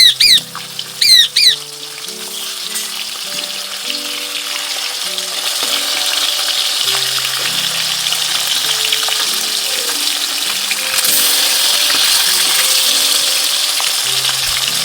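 Fish frying in a pan in a home kitchen. A broad sizzle rises and grows louder toward the end, with a few chirping bird calls at the start and faint steady tones in the background.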